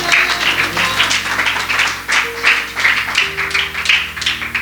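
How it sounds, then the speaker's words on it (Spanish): A church congregation applauds during a Spanish-language sermon, a dense, steady wash of many hands clapping in rhythmic waves, loud and close, with a sustained organ or keyboard tone underneath. "Dele un aplauso a Jesús"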